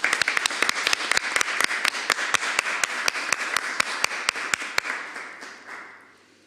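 During a constitutional convention commission session, a small group applauds, with sharp, distinct claps in a brisk steady rhythm that fade out near the end.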